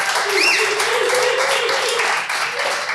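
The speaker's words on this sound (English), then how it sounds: "Give them a round of applause" A live audience claps for podcast guests in a steady, dense round of applause that stays fairly loud throughout, with a voice talking over it near the start.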